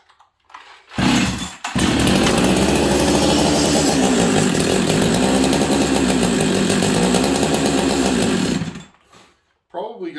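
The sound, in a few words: Husqvarna 385 chainsaw engine running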